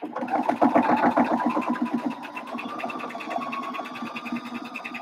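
A sewing machine runs steady, rapid stitching through fabric for a cinch bag, loud and close at first, then continuing more evenly and slightly softer with no talk.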